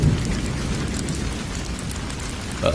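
Steady cartoon-style rainfall pours down in a continuous wash of patter, moderately loud and even throughout, with a brief brighter accent near the end and no voices.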